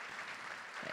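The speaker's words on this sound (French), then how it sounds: "Un grand applaudissement à Julie." An audience claps at a ceremony in a short burst of steady, fairly faint applause with no voices over it.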